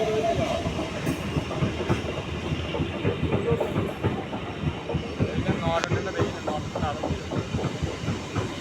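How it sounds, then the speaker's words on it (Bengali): A Katwa passenger MEMU train rolls into platform 2 at a station on the Ahmadpur–Katwa line, a loud continuous rumble with rhythmic wheel clatter and hiss close by, with people talking faintly in the background. "Katwa passenger train signal rail স্টেশনে 2 নম্বর প্ল্যাটফর্মে প্রবেশ করছে।"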